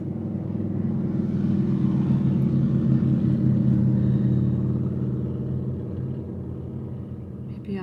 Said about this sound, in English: there's a lot of loud cars out there today.